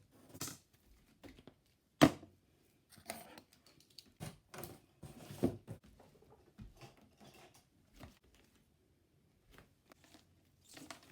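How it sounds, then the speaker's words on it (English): An X-Acto blade cutting around a cardboard box: scattered close, dry scratches and clicks in irregular bursts, with quiet pauses between them. "I think I'm just going to use my X-Acto blade and just cut around the box like so"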